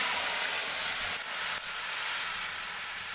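Green chili and a spice mixture in hot oil give a steady, loud, close sizzling hiss that briefly dips and swells, with no talking.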